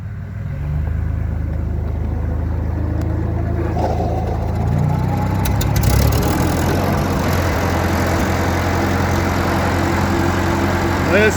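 A Ford 8N tractor engine idles steadily after restarting, a low even rumble held close and continuous throughout with a slight rise near the middle.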